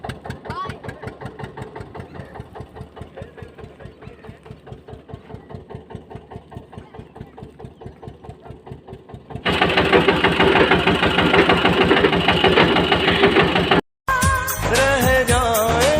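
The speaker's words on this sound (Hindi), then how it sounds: "हम अभी इसी ट्रैक्टर पे जाएंगे बैठ के अपने घर" A tractor hauling harvested wheat home runs with a steady chugging diesel idle, a fast even pulse close by, then grows much louder and rougher partway through as it works harder, with a brief dropout near the end.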